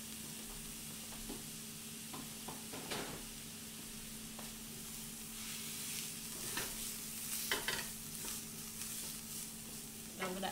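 Dried minced garlic sizzling in a frying pan, making a continuous crackling fry with scattered pops and occasional stirring clatter, heard close and fairly quiet with no talking.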